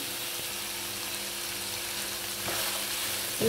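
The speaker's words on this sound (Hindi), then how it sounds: "अब इसको एक एक से दो मिनट तक इसको फ्राई करते हैं" Onion whites and chicken frying in a pan for fried rice, a soft continuous sizzle that swells slightly near the end, with a faint clink of utensils and no talking.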